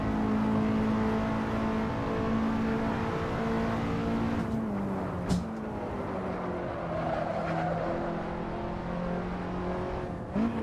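A race car engine in a racing game at the Roebling circuit drones steadily and loud throughout, its pitch shifting as it slows and builds power again, with a brief sharp transient near the middle.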